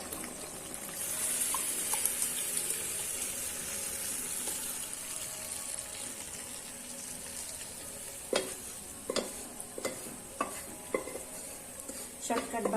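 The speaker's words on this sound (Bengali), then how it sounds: "আমি শুধু খালি এই যে অল্প পরিমাণে তেল দিয়েছি এবং আমি এখন এই চালটা দিয়ে দিব।" Rice frying in a small amount of oil in a pan, with a steady sizzle throughout and, toward the end, a series of scraping stirs and clinks of a utensil against the pan.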